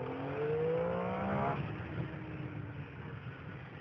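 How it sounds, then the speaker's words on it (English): A Triumph Street Triple motorcycle accelerates hard in first gear, its engine note climbing quickly in pitch for about a second and a half before fading away into background noise. "So that was first gear. I rung it open, didn't do any drama, tire didn't slip, nothing."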